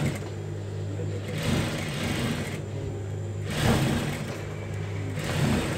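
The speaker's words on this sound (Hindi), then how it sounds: "हम सिलाई लगा के आपको दिखाते हैं" A sewing machine runs along the inner seam of a tulip shalwar, humming steadily at close range with a few brief surges in speed.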